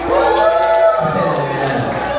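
Audience members at a comedy club cheer and whoop together, a loud burst of mixed voices that rises and then fades slightly over two seconds.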